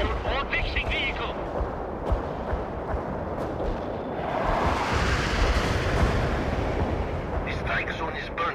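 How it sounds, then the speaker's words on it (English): Napalm strike and artillery explosions in the strategy game World in Conflict, Soviet Assault: a continuous, heavy rumbling roar of blasts and fire, loud and sustained, swelling midway, with scattered sharper cracks and intermittent radio-style voices over the top. "Targeting napalm strike on the coordinates."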